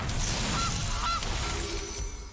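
Goose honk sound effect for the Forest Goose card in the Magic: The Gathering video game: two short nasal honks over busy game background noise, with no talking.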